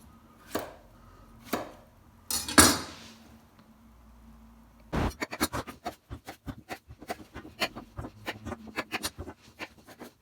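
A knife chops vegetables for couscous royale on a board: a few isolated cuts and a scraping sweep, then a quick run of rapid, close, rhythmic chops.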